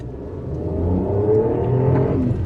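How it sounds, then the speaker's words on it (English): A Daewoo Matiz engine rises in pitch as it accelerates, with a droning exhaust howl building steadily and fairly loud. "There's a slight howl to the exhaust."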